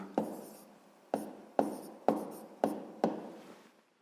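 A pen or pencil writes fractions by hand on paper in a math exercise, giving six short, close scratching strokes spaced about half a second apart, quiet and alone.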